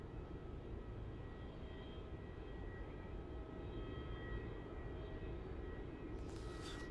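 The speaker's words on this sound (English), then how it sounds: "On screen there we can see a Rex 737-800 now rolling down runway 16." A Rex Boeing 737-800 rolls down the runway on its takeoff run, a distant steady jet roar with a broad low rumble that holds for the whole stretch.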